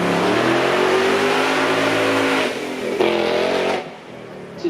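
A 5-litre V8 Ford Mustang RTR, a former drift car, launches with a loud, close rising engine roar. Its revs climb, then break briefly at a gear change and fade as it pulls away at a supercar event.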